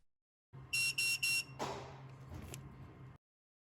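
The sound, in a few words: machine beeping multiple times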